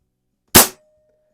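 A Hatsan Model 95 air rifle fires a single sharp shot at a target, a loud, brief crack that dies away quickly, heard alone in an otherwise quiet setting.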